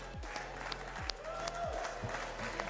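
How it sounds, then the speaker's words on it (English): Crowd applause in a venue at a beach volleyball event, a steady wash of clapping held at moderate level across the whole moment, with a few sharper claps standing out. "Everybody in this venue, let's give a round of applause for Ole Miss for their 4th place finish."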